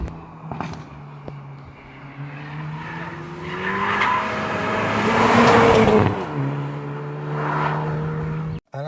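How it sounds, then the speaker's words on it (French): A 2018 Hyundai i30N Performance engine revs hard and close, its exhaust crackling and popping as gears change, with a brief dip in pitch at a shift. "Ça crépite, ça pète quand on passe les vitesses."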